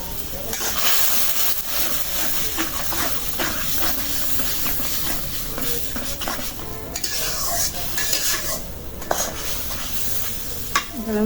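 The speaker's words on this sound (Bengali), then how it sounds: "মশলাটা ভালো করে কষাই দেবো একদম ভালো করে জ্বালাম করে" Spices for a small-chicken and turnip curry being stir-fried in a pan, a continuous loud sizzle and hiss with repeated scraping and clinking of a spoon against the pan.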